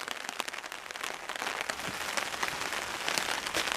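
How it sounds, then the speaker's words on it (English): Light, steady rain patters on a bushcraft shelter in the woods. The dense, even hiss of drops stays close and continuous, with no voices. "So we've got just light, steady rain."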